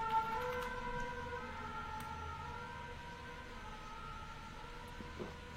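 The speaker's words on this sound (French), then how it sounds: "Avec une petite sirène, si vous avez entendu." A small siren wails with steady sustained tones, fairly faint and held throughout against a low background hum, no talking.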